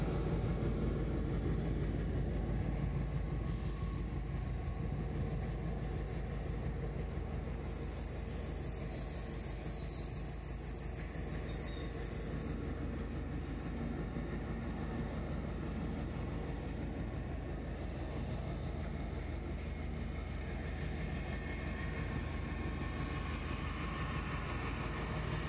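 A CNR 8H diesel locomotive hauls train 268 Cordobés into Retiro San Martín station, a steady low engine rumble with rolling rail noise, close and continuous, with a brief high squeal or hiss partway through.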